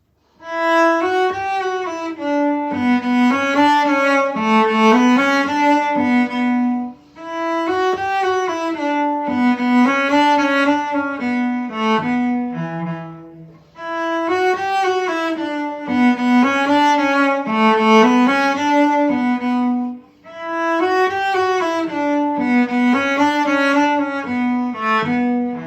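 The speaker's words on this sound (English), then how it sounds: "So the whole B part played together sounds like this." A solo cello plays the B part of the Irish fiddle tune The Road to Lisdoonvarna in a bright Celtic style, in four steady phrases separated by short breaths, close and clear with no talking.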